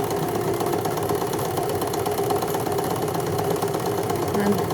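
An Empisal Dressmaker 270D sewing machine stitches with a continuous, fast, even mechanical whirr and rattle, close and moderately loud throughout.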